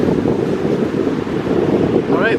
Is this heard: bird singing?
no